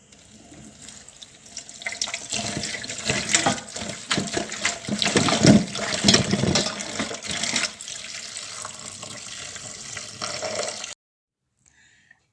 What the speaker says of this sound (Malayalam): നന്നായിട്ട് ഇനിയും കഴുകി വൃത്തിയാക്കി എടുക്കണം.